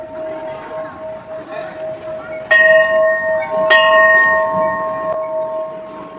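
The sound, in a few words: temple bell being rung at Dhakeshwari temple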